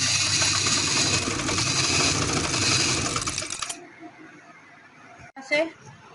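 A sewing machine stitches piping onto a round neckline, running loud and steady for several seconds before stopping, followed by quiet handling and a brief clatter.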